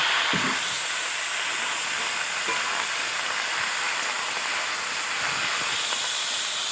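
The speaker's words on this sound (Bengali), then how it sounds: "বেগুনের সিমটা দিয়ে একটু নেড়েচেড়ে ভেজে নেব" Brinjal and beans frying in a pan give a steady, loud sizzling hiss that runs unbroken throughout, with a few faint low knocks from stirring.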